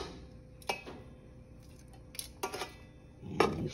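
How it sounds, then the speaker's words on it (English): Browned neck bones go back into a cooking pot with several sharp, close clinks and knocks spaced irregularly, the loudest cluster coming at the end. "Now I'm gonna put these necks right back in the pot."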